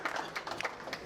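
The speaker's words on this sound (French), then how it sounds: "Et qui mérite des applaudissements" Brief audience applause at a Senegalese supply chain association launch event, a faint patter of clapping from a room of people, short and fairly quiet.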